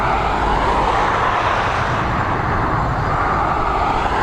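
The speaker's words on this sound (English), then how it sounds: "this Airbus A320 operated by Lauda, heading over to Zadar" A Lauda Airbus A320 departs Dublin Airport, bound for Zadar, with a loud, continuous broadband jet roar that holds steady throughout.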